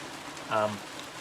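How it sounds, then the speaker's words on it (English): Steady rain falls outdoors as a constant hiss of drops, with a brief louder voice-like sound partway through. "let's see if you guys can still hear me over this rain."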